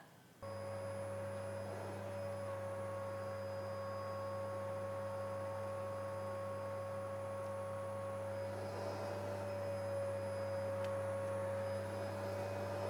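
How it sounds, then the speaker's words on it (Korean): A steady, muffled vacuum cleaner hum drones continuously at low volume, heard through a ceiling as from the flat upstairs, with no voices. "지금 청소기 소리인데요"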